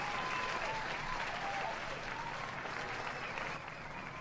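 Canned applause sound effect triggered from the VLC app, a steady wash of many hands clapping that holds evenly throughout and dips slightly near the end, with no voices over it.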